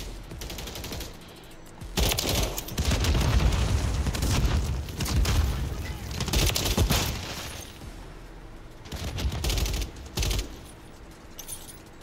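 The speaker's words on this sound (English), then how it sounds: "Blew my ass up with a damn bazooka." Heavy explosive blasts and gunfire in a multiplayer shooter video game, Kill Confirmed match on a checkpoint map, where a teammate's bazooka rocket detonates; loud repeated booms and rattling shots come in bursts over about twelve seconds with no talking.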